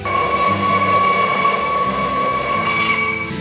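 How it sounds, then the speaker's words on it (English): An LNER Pacific steam locomotive in the train game Trainz 2 chuffs in a fast, steady synchronized rhythm under a loud rolling rumble, with a thin high whistle tone held throughout. "Synchronized chuffing is fast and powerful"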